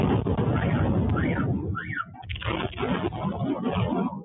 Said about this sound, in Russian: В Севастополе взрывы.